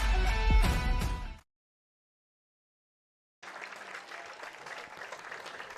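A crowd at a high school football game applauds in a steady wash of clapping and cheering, loud at first, then cut to silence before resuming more softly.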